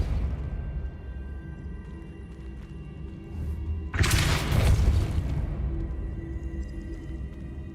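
Depulso spell cast in Hogwarts Legacy, a sudden loud whooshing burst about halfway through that rises over a low ambient game hum and rumble, then settles into a steady drone.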